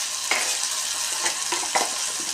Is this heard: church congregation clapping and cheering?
no